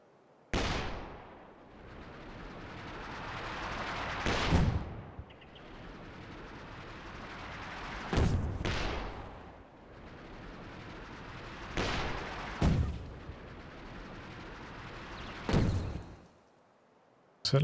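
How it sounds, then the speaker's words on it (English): Successive distant booms of a leIG infantry gun firing a smoke barrage in Company of Heroes 2, about five loud rumbling blasts spaced every three to four seconds with a steady battle rumble between them. "I'd have it spin around 90 degrees, fire off a smoke barrage, see how that goes, see how long it takes"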